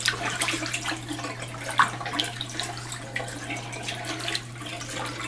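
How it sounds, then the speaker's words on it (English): Plain distilled water is poured over the mirror of an 8-inch Orion Newtonian reflecting telescope, giving a steady, soft splashing rinse with a constant low hum underneath. "we are going to rinse our mirror with just plain old distilled water from the grocery store"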